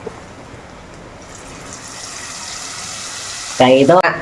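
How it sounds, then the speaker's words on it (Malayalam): Mixed curry paste for tuna fish curry is poured into a pan as a brief watery gush near the end. Before it there is a low, steady background hiss, and a voice briefly overlaps the pour. "കലക്കി വെച്ചേക്കണ സാധനങ്ങളൊക്കെ അങ്ങ് ഒഴിക്കാൻ പോവാണ്"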